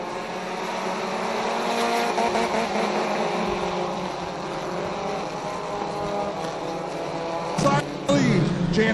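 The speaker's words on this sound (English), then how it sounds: "Stein and Jansen racing down into turn." Ministock race cars at Ohsweken Speedway roar down into a turn, a sustained engine drone rising and swelling as the pack passes, with a track announcer talking over the noise throughout.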